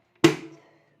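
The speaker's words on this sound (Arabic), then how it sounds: "دي صوت الازازه، ما تخافوش" A single sharp glass-bottle clink in a kitchen, close and bright, ringing out briefly before fading into silence.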